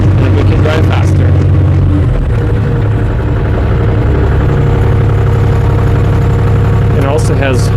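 Engine of a JoyT5 JT5WL1000 1-ton wheel loader running loud and steady as the machine drives forward, a continuous mid-pitched drone with a slight rise partway through.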